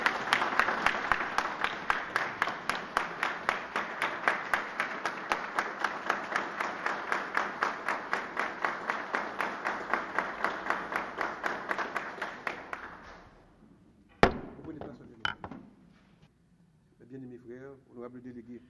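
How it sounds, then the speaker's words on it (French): A lodge audience applauds a Freemason during a Grand Orient d'Haïti ceremony: dense, steady clapping fills the first twelve seconds, then fades into a few scattered claps and light voices. "Et je vous demande de l'applaudir."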